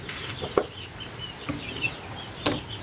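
A three-month-old black chick gives faint, scattered high chirps against quiet background noise, with a few soft taps in between.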